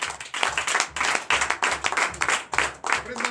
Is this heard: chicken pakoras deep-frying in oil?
no